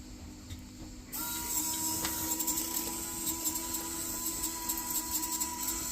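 A small electric winch motor on a Cross RC XC6 model recovery truck whirs steadily after a quiet start, a close, thin mechanical hum with faint clicking ratchet-like ticks running through it.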